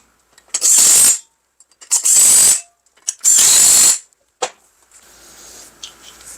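A ratchet wrench tightens a new front wheel bearing retainer on a PT Cruiser, heard as three loud, close bursts of rapid clicking with short pauses between them, then a brief click and quieter handling noise.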